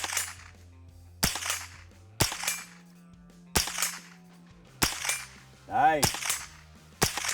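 A 1522 rifle fires about six sharp, loud shots at uneven intervals of one to two seconds, each crack ending in a short decay, with one brief spoken word between shots.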